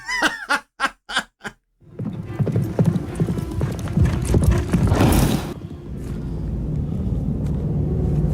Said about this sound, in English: That poor horse is getting chased